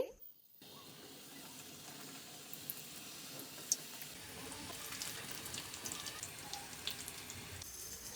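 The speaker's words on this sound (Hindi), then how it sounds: "अब हम समोसों को फ्राई करेंगे।" Egg samosas frying in hot oil, an even, continuous crackling sizzle that holds steady from start to finish.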